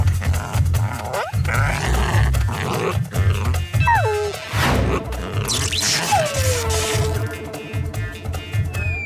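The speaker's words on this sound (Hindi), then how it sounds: "वो देखो डॉग्स, चलो डॉग राइड करते हैं।" Cartoon dogs bark, growl and grunt over a busy animated soundtrack with music, whooshes and sliding effect tones, loud and continuous throughout.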